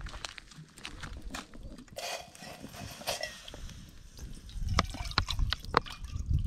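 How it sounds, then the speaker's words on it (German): Water poured from a container into a pot to make tea at an outdoor campfire spot, a soft trickling splash with scattered drips over faint background noise, fairly close. "Machen wir nochmal Wasser rein."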